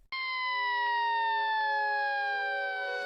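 An emergency vehicle siren starts abruptly and holds a loud, sustained wailing tone that slowly glides downward in pitch, sounding fairly close with no voices.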